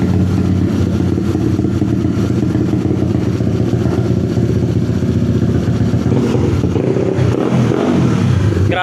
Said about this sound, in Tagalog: Ayun, maririnig nyo si Julia, parang kabayong galit.